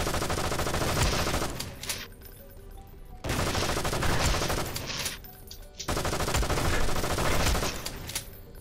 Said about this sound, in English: Let me just headshot you one more time.